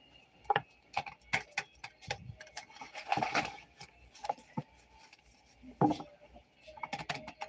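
Tarot cards being shuffled by hand, a string of light, crisp taps and flicks in an irregular rhythm, close up and quiet, with a denser riffling burst midway.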